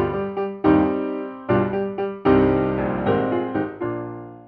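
Orchestral music from the third movement of Beethoven's Fifth Symphony, its main theme played in loud, punchy phrases with sharp repeated attacks and rich sustained harmony, no voices.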